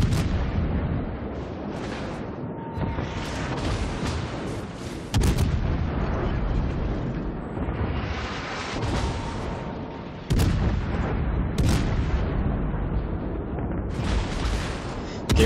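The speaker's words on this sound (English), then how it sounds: "You really see the power of these fast reloading guns with armor piercing on this Izumo." Warship guns firing armor-piercing shells in a naval battle video game, with a battleship Izumo among the ships: heavy booming salvos under a constant roar of battle, loud and close, with several sharp blasts standing out.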